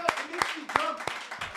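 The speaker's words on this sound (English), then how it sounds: "It makes me jump when I hear the clapping" A few sharp, scattered claps ring out at a steady pace during a sports podcast, sitting under ongoing conversation.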